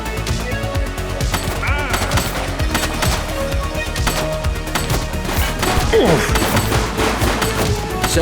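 Rapid gunfire crackles in the police video game The Precinct, dense bursts of shots and impacts rattling continuously and close, with voices occasionally breaking through the chaos.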